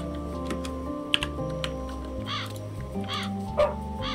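A small dog from the video game Calico yips a few times over light game music, short high barks close together, alongside clicks of mouse or keyboard input.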